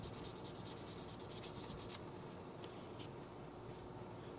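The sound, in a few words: milling out holes in a leather stamp tool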